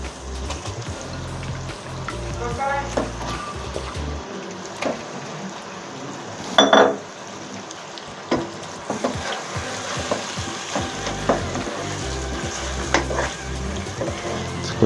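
Chicken pieces sizzle and fry in spiced masala inside a handi pot for biryani, a steady close crackle with occasional stirring scrapes and clinks and no talking.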